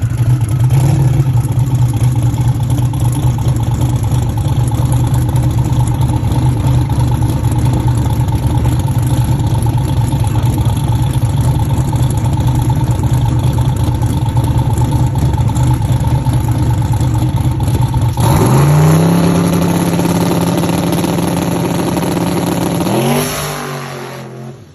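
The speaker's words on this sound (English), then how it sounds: "If you hear it layover, that's usually the sound of it running over the crankshaft." A Corvette Z06 engine at a drag strip, laboring after running over its crankshaft during an aborted pass: a loud, steady engine drone for about eighteen seconds, then a sudden shift in pitch and tone before it cuts out.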